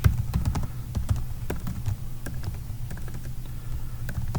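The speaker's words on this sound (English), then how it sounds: "Why am I typing this, showing this to you, and then hit enter and you go to another line?" Fingers tap steadily on a computer keyboard, a run of quick, light, irregular key clicks heard up close over a soft low background hum.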